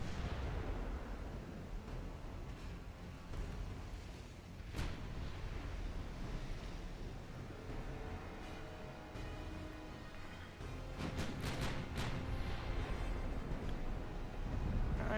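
Battleship main guns fire volleys in a naval warfare game, deep booming blasts rolling over a continuous low rumble of sea and engines, with a sharp report near the middle and a cluster of heavier shots later.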